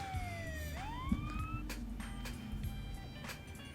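Police sirens wail loudly over a San Andreas game cutscene, one rising and falling tone sweeping down then climbing again, joined by a second siren, with engine rumble and scattered game sounds beneath.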